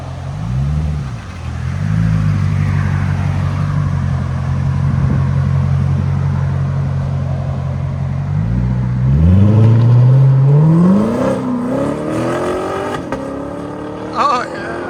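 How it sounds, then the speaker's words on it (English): Chevy C7 Corvette fitted with a Carven R-Series exhaust, idling with a steady deep burble before revving hard and accelerating away, the loud engine note rising in pitch through the gears, with a person speaking over it. "Chevy Corvette with Carven R's"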